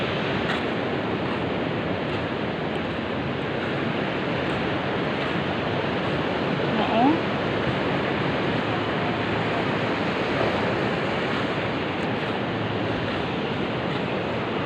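Sea waves wash onto the shore after a string of typhoons, a loud, constant roar of surf with wind buffeting the microphone and no voices.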